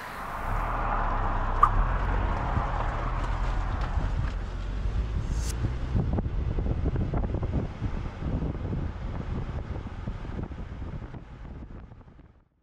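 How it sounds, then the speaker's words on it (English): Steady wind noise from driving at about 60 to 70 miles per hour, heard at a covered Lectric XP electric bike on a rear hitch mount, as a constant low rumble and rush with no talking. "We're gonna go for a ride here down the road, at least, you know, 60, 70 miles per hour maybe"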